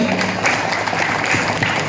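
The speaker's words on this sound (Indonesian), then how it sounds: "Tepuk tangan semuanya." Audience applause at a ketoprak theatre performance at a Klaten regency cultural event in Java, a dense, steady wash of clapping from a crowd that carries on evenly throughout.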